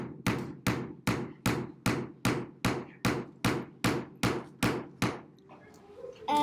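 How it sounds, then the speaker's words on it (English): About a dozen sharp, evenly spaced hammer blows ring out close and loud, each with a short metallic decay, then the strikes stop and a faint rustle follows. "I'm just gonna hammer now"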